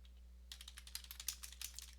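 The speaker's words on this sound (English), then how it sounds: "So I'm just going to type here" Quick, light keystrokes on a computer keyboard, starting after half a second and continuing in an uneven run of clicks over a steady low hum.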